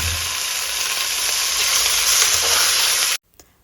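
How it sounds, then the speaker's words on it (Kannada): Country chicken sizzles and fries in a pressure cooker with a loud, steady hiss while being stirred, then the sound cuts off suddenly, leaving near silence with a faint clink. "ಇದನ್ನು ಡೈರೆಕ್ಟಾಗಿ ಕುಕ್ಕರ್ ಒಳಗಡೆ ಹಾಕೊಂಡು ತಿರ್ಕೋಬೇಕು"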